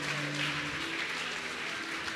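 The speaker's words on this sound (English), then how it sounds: "Clap your hands for Jesus." A church congregation clapping hands during a worship service: a faint, dense, continuous patter of applause over a low hum.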